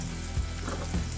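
Soya Manchurian with carrot, capsicum and onion sizzles in a pan, a steady close crackle of frying with two soft stirring scrapes.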